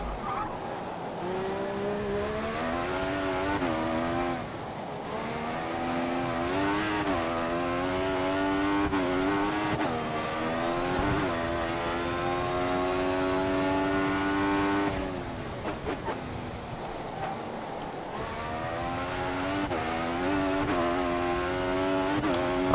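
The Williams Formula 1 car in the F1 2014 racing game holds a loud, continuous engine whine that climbs and drops through gear changes, with brief lifts for braking and corners and tyres squealing at times.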